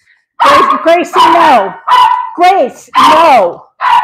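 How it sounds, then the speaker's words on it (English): A dog barks loudly and close by in a kitchen, giving five or six sharp, yelping barks in quick bursts, with a person speaking briefly between them. "That's my dog, you guys."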